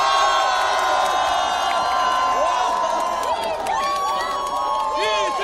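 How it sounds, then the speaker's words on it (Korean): A crowd at an outdoor election campaign rally in Cheongju cheers and claps for a party leader, with whoops and high shouts rising over continuous noise, plus sustained tonal sounds running through it. "함성과 박수"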